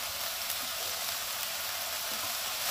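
A paste of green chilli, chopped tomato and cumin fries for a Bengali katla fish curry, giving off a steady, even sizzle with no talking.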